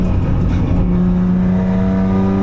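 Race car engine pulling hard at full throttle on the Nürburgring Nordschleife with a passenger aboard, a loud, close, steady roar with rising harmonics and no talk.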